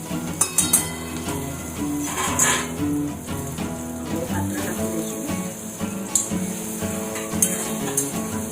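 Finely chopped chillies hit hot tempering oil for a patra recipe, giving a steady, close sizzle with occasional clinks of utensils against the pan.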